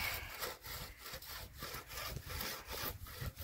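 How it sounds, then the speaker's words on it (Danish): A hand saw cutting through a tree trunk in a forest, with steady back-and-forth rasping strokes at a regular rhythm, heard close and fairly quiet. "han er stadig i gang med at save i sit træ"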